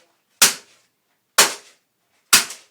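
Three loud, sharp thuds about a second apart, each a hard percussive fist strike on a dense iron bag with a quick, slightly gritty decay.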